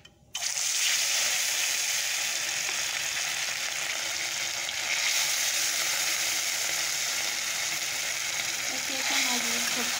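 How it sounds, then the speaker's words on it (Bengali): Fish fried in very hot oil in a wok, cooked for a fish curry with potato, pointed gourd and tomato; a loud, steady sizzle holds from start to end, kicking in sharply as the pieces go in. "আমি মাছগুলোকে ভেজে নিচ্ছি"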